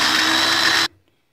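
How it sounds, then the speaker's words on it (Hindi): An electric grinder grinds ginger and onion for kebab mix, a loud, steady motor whir lasting under a second before stopping abruptly into near silence. "अब इसको अच्छी तरह ग्राइंड करें।"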